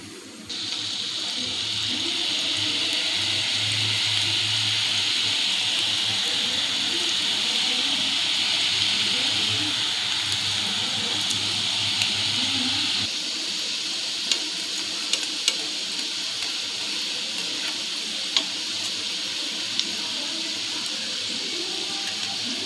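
Potato sev frying in hot oil gives a steady, bright sizzling hiss, close and continuous, easing slightly partway through with a few faint clicks and pops.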